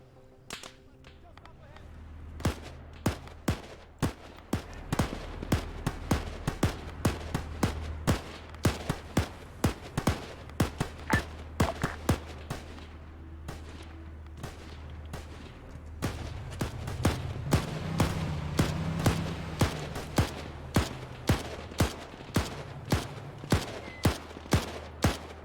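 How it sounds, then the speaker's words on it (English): Sharp, repeated gunshots crack out in irregular bursts of suppressive fire during an Arma 3 battle, loud and close, with a low rumble of engines or distant action beneath and no talk. "Now that target's letting these guys do suppressive fire"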